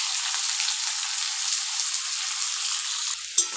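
Chopped onions and whole spices such as bay leaf, dried chilli, cardamom, cinnamon, peppercorns and cloves fry in hot oil for chicken curry, a steady close sizzle with a brief clatter near the end.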